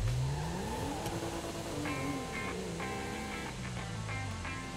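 A car in a GTA video game drives and revs, its engine note climbing and falling at moderate volume, with short bursts of tonal game sounds layered over it.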